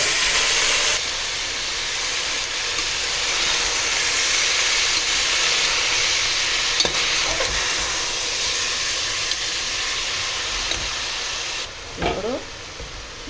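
Washed cabbage goes into a hot pan for curry, producing a steady sizzling hiss that runs throughout, with a few faint clicks and clatters near the end.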